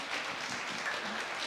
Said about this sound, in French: Je crois qu'on peut vous applaudir.